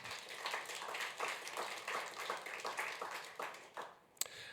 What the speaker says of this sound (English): Another round of applause for Sana.